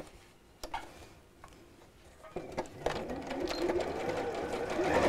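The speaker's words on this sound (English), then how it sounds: "And then we'll sew all the way around these bottom 3 sides." A sewing machine stitches fabric around the bottom sides of a piece, starting with faint scattered ticks and clicks and then building into a steadily louder, continuous mechanical whir.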